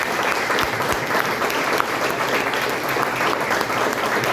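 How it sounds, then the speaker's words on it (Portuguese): Sustained, dense applause from a church congregation at a Sunday morning worship service, steady and full throughout with no talking over it. "Dá uma salva de palmas a Jesus Cristo"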